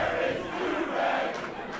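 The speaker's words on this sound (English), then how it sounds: "The crowd asking where Durag is" A crowd at a live wrestling event shouts together in a steady, loud roar that carries on for under two seconds with no clear speech.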